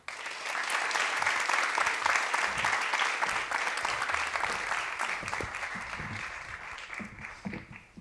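An audience claps loudly for Feike Sijbesma at a Collegetour talk event, a full, sustained round of applause that swells quickly and then gradually thins toward the end.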